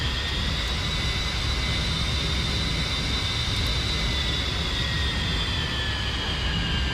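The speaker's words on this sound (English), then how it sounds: "it takes a while for the engines of a jet to spool up" Jet engines spooling up in a flight game, a steady loud roar with a high whining tone that slowly rises and then sags, continuous and without talking.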